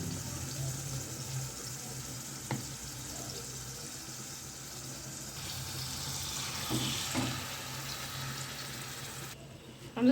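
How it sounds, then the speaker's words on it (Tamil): Chicken pieces frying in oil in a kadai, a steady soft sizzle throughout with a few faint clinks and scrapes, fairly quiet and without talk. "நல்லா ரெண்டு ரெண்டாக போட்டு ஃப்ரை பண்ணி எடுத்துக்கலாம்."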